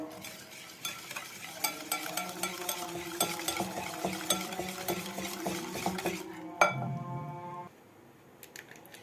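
Batter with salt and baking powder stirred briskly in a bowl, a steady run of scraping, clinking strokes for about six seconds, then a louder knock and quieter, sparser scrapes.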